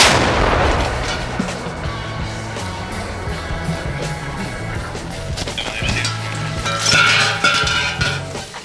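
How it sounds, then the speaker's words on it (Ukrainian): A heavy gun fires with a loud boom at the start, followed by rumbling echoes and metallic clinks, with another burst near the end. "Нормально постріл!"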